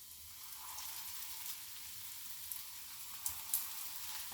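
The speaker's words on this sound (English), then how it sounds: "It's going to sizzle." Alkaline dumplings frying in hot oil give a steady, soft sizzle throughout, with a few sharper pops and crackles near the end and no talking.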